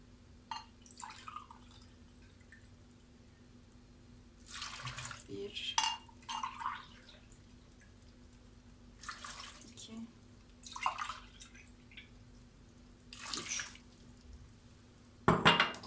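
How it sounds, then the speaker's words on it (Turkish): Water poured into a pot while making quince jam, heard as several short, splashy pours spaced a few seconds apart over a low, quiet kitchen background, with a brief clatter at the end. "İçerisine 3 su bardağı su koyacağım."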